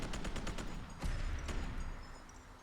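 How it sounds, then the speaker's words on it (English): An AEK-973 assault rifle fired in Fallout 4, a rapid automatic burst of shots followed by a few heavier, spaced reports, all fairly faint and dropping away at the end. "Mag dump crits into him."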